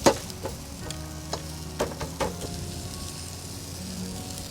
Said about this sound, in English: once you put that garlic butter on, Hiro, comes to life.